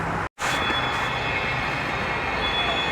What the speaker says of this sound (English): Okay, the train has arrived slowly after the delay.